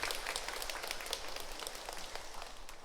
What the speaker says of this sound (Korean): 환영의 박수를 부탁드리겠습니다